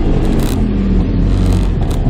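A loud motorcycle rumbles close by on an Italian street, a steady, strong low engine roar that fills the whole moment.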